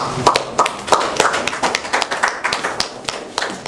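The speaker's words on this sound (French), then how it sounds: "Merci, applaudissez-vous." Scattered clapping at a formal gathering presided over by a president, a loose handful of hands tapping out uneven, sparse claps nearby rather than a full ovation.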